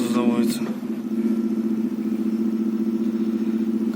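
Car engine idling just after a cold start, a steady low hum with a faint rhythmic pulse; a short burst of cranking noise at the start, then a stable idle runs alone.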